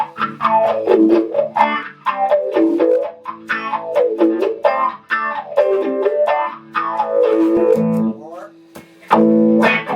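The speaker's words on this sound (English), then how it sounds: "This little wah thing here" Electric guitar played through an overdriven wah effect, sweeping repeatedly in a vowel-like rise and fall over sustained chords, loud and upfront, with a heavier distorted passage near the end.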